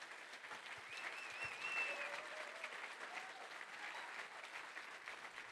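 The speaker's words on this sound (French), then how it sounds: "On l'applaudit s'il vous plaît très fort." An audience at a recorded history interview show claps steadily for several seconds, a soft, even patter heard from some distance.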